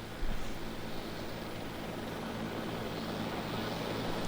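A JetBlue airliner, flight 292, comes in to land at LAX with its nose gear turned sideways, heard as a steady, broad jet engine roar and rush at moderate distance that holds throughout.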